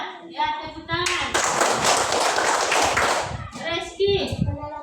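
Schoolchildren in a classroom break into a burst of hand clapping lasting about two seconds, loud and close, with a teacher's voice talking before and after.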